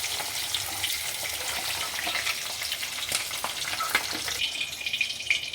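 Chicken balls sizzle lightly in hot oil for chilli chicken, a steady close crackling fry with occasional stirring clinks and no talk.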